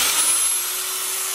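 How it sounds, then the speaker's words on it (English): A steady high-pitched motor whine runs continuously, close and loud, like a power tool spinning: an electric drill running as a load on a 100Ah lithium battery during a discharge test. "So I'll do the drill."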